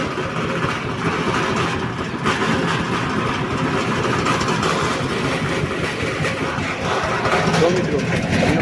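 A tractor engine chugs steadily at idle, loud and close, with a voice talking over the continuous rumble.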